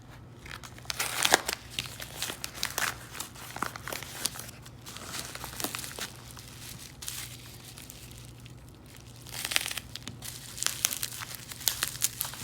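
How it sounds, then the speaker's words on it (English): Paper-wrapped rolls of Indian head pennies being torn open, a stretch of crinkling, crackling and ripping paper in uneven bursts up close, with no talking. "But we're going to rip into these rolls and see what we can find."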